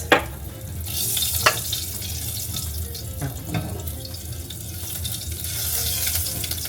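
Spices and asafoetida sizzle in hot oil in a frying pan while a utensil stirs and scrapes against the metal, a steady close frying hiss with occasional knocks and no talk.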